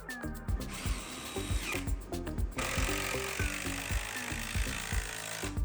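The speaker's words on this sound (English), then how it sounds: "Then I'm going to use a clamp and some more lag screws to attach it." Power drill driving lag screws into a wooden frame for a router table, with a steady whirring motor and rhythmic pulsing bursts as the screw bites, close and loud throughout.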